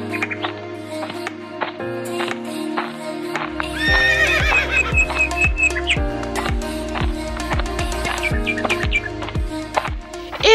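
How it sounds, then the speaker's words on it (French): Horses whinny repeatedly as they are led out of their stalls, shrill neighs rising over steady hoof clip-clops, with birds chirping in the background. "Donc on sort les chevaux du box et puis on va aller les préparer en carrière"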